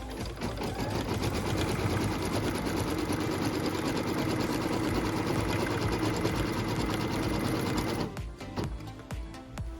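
A sewing machine stitches a tack-down line on pieced fabric, running steadily with a fast rhythmic mechanical chatter for about eight seconds before it slows and stops.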